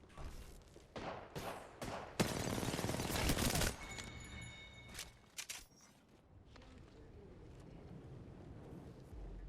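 Bursts of rapid gunfire and single shots crackle and echo through an Apex Legends match, clustered in the first few seconds and then thinning out to scattered quieter pops.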